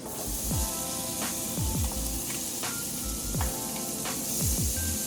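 Diced onions and tomatoes sizzle steadily in a hot pan for fried rice, with a spoon scraping and stirring in repeated strokes under the continuous frying hiss.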